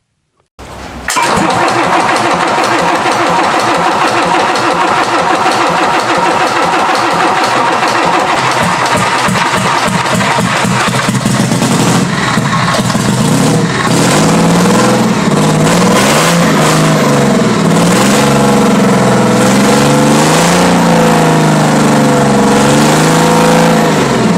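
Commer TS3 3.5-liter two-stroke diesel with six opposed pistons, a 1954 105-horsepower truck engine, cranks briefly then fires and settles into a loud, close, rapid rhythmic idle with a harsh mechanical clatter.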